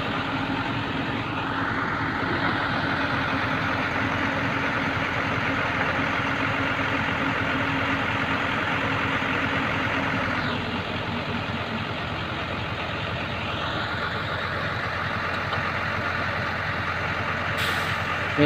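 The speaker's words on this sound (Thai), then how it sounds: "โอ้มีรถน้ำมาด้วย" A water truck pulls up and idles nearby during Songkran, its steady diesel rumble continuous throughout with faint air-brake hisses and shifting engine tones, no talking.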